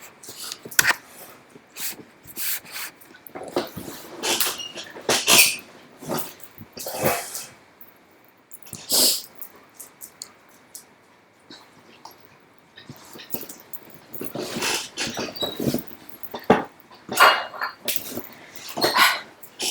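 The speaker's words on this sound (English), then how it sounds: "sometimes I look after my mum's dog, this one, and my God, is his bark loud" A dog owned by the speaker's mother barks loudly in repeated sharp bursts at close range, with short pauses and a longer gap midway, and no talk over it.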